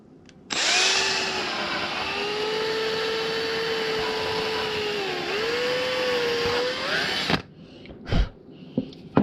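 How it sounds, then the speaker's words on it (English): A power drill boring a hole in wood for a turned acorn birdhouse ornament: a loud, steady whine for about seven seconds that dips briefly in pitch under load, followed by a few short knocks. "that wood is easier to drill a hole in."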